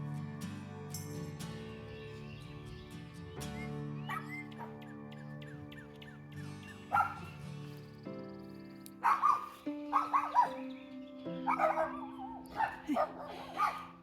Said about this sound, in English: And the dogs are barking, not at me, but because there are people out fishing in the cove.